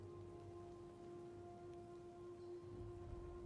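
Steady rain patters down during a battle in Total War: Rome II, a soft, even hiss of falling drops under a low sustained hum, faint and continuous throughout.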